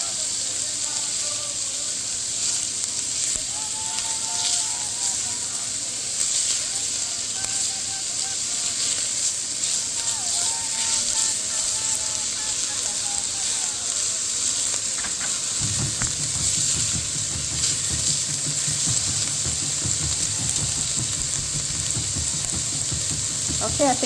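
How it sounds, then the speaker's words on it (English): Quinoa sizzling in a hot pot as it is stirred to keep it from sticking and burning, a continuous close frying hiss with faint scraping, heavier and louder in the final stretch. "Just keep on stirring it so it doesn't stick to the bottom of the pot and burn."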